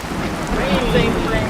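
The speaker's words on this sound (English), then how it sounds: "there is a lightning crack, and it begins to pour rain" Steady pouring rain, played as a sound effect, hisses evenly throughout while a voice briefly speaks over it; no distinct thunder crack stands out.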